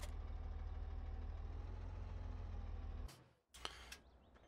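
A tractor engine in Farming Simulator 17 idles with a low, steady rumble, then cuts off abruptly near the end, followed by a few brief clunks, faint overall.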